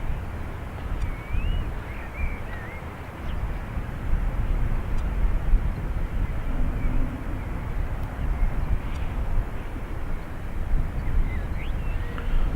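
An aircraft takes off from runway 28 right at Dublin Airport, its engines a steady, broad roar that builds slightly and holds for the whole stretch, heard from a distance outdoors.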